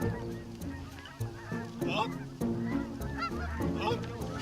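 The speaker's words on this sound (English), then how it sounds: "The geese are coming off the Chester River" Geese honk repeatedly in flight over the Chester River on Maryland's eastern shore during a winter goose hunt, a chorus of moderately loud, overlapping calls at a steady pace.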